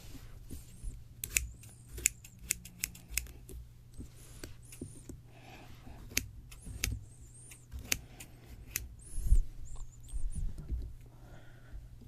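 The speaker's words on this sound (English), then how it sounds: "let me cut some of this stringy stuff off the top." Crisp, close snips of scissors trimming stringy fibers off the top of a spooky decoration, an irregular run of short cuts with faint rustling between them and soft handling noise, intimate and quiet.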